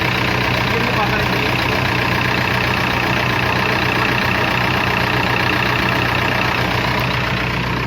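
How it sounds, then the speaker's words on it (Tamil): A 2006 Kirloskar BS3 diesel engine in a JCB backhoe loader, in weak condition and smoking, idles with a steady low rumble that stays constant throughout. "ஸோ இது 2006 கிர்லோஸ்கர் இன்ஜினு BS3."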